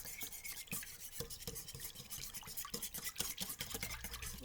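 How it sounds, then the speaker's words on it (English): A whisk stirs egg, milk and oil for blueberry muffin batter, making a quiet, steady scraping and sloshing against the bowl with no talking. "I'm going to take my whisk. I'm going to mix that up"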